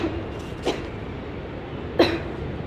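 Two short, close coughs about a second apart from a person with eye irritation, the second harsher, over a quiet room background.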